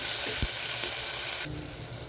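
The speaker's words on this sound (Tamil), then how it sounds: "தக்காளி கொஞ்சம் வதங்கட்டும்" Chopped tomatoes sautéing in a pan for tomato rice, a dense, close hiss of sizzling with a couple of light spoon taps before the sound drops sharply quieter.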